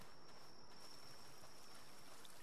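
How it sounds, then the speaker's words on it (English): Crops watered with an infinite water can in the video game Palworld, a soft continuous trickle and splash of water, faint and steady with a thin high tone running over it. "I'm just watering with my infinite water can over here"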